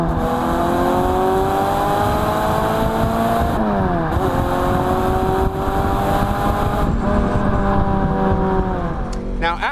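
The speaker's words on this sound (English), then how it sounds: "Let's give it a quick pull through the gears." French hatchback with 167 horsepower accelerating hard through the gears, a loud steady engine drone rising in pitch, dipping briefly at two quick upshifts before climbing again.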